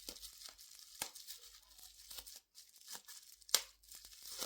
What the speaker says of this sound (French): Puis là, il y en a le papier bulle.